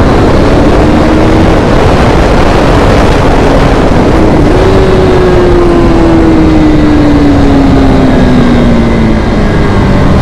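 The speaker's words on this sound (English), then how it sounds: "Some nice stretch with engine braking." A KTM RC 390 motorcycle decelerates under engine braking while riding, its engine tone sliding slowly downward beneath loud, constant wind roar, with no talk.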